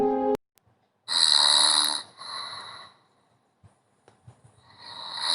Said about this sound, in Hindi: सहयात्री भी बर्थ पर लेट गया और कुछ देर में उसके खर्राटे केबिन में गूंजने लगे।